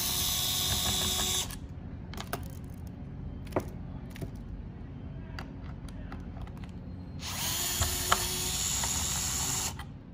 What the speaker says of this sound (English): We're gonna remove the Phillips screws in the four corners.